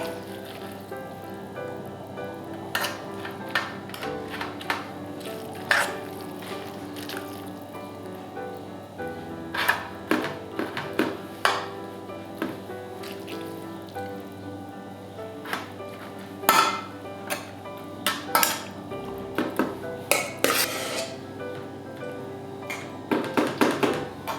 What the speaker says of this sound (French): On va remplir nos moules avec le mélange de choucroute et lardons.